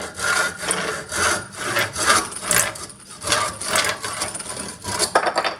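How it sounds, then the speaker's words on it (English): A hand saw cutting through the last bit of a wooden board, loud, close rhythmic rasping strokes back and forth, about a dozen in steady succession with no talking. "So let's just cut that last little bit."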